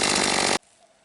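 A petrol chainsaw cutting firewood at a taiga river camp roars loud and steady for about half a second, then cuts off abruptly into quiet outdoor stillness.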